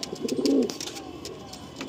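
Lal Sira pigeon giving a short, close coo in one brief phrase, with faint background noise.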